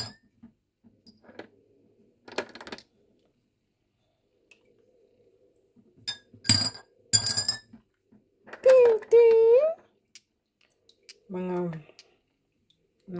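Small river stones clink as they drop into a drinking glass, giving a few sharp, separate taps. A person's voice follows near the end.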